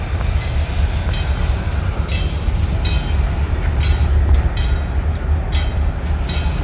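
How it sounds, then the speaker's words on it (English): A pair of diesel locomotives, an SD40-2 and an SD50, pull a coach train at a railway museum diesel event, giving a steady loud low rumble with rolling wheel noise throughout. "6847 and 7009 are paired up today to pull the coach train"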